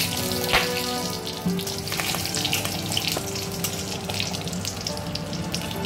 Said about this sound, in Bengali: এবার আমি এর মধ্যে প্রথমে দিয়ে দিচ্ছি তেজপাতা, 3টে তেজপাতা নিয়েছি, আর এখানে 3টে শুকনো লঙ্কা নিয়েছি, এটা দিয়ে দিলাম।